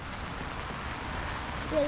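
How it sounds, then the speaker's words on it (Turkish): Heavy rain pouring steadily outdoors on a wet day when picking a child up from school, a constant broadband hiss at moderate level with a faint tonal sound near the end. "Çok yağmur yağıyor ya"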